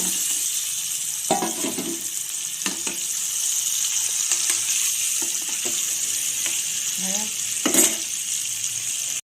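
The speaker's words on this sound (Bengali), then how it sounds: "এই ডিমটা ভেজে তুলে নিয়েছি" Eggs coated in turmeric and salt frying in oil for egg biryani, a soft steady sizzle with occasional clinks and scrapes of a utensil in the pan, close and moderately loud.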